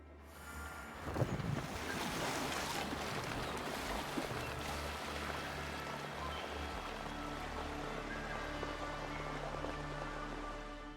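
A ship setting sail on the open sea in Assassin's Creed Valhalla: rolling waves and surf with wind over the water and hull, a brief splash early on, then a steady, fairly quiet ocean wash.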